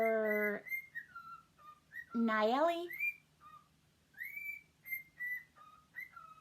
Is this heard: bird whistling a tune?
yes